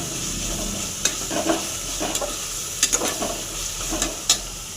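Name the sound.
spice masala frying in a pan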